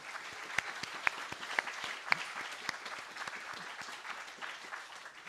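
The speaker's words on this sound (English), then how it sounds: "Let's give another round of applause for them." An audience applauds a conference panel at a peace event, a steady patter of many hands with a few sharper claps standing out, moderately distant and fairly soft.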